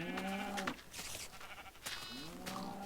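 Sheep in Minecraft bleat in short, wavering cries, three or four calls spread over a few seconds, close and clear with quiet gaps between them and no talk.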